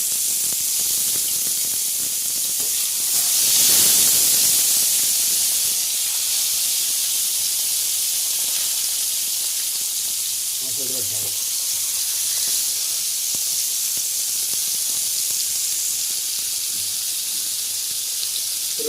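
Fish fries in a hot pan, producing a constant bright hiss of steam and oil that swells briefly near the start, then settles into an even, close sizzle.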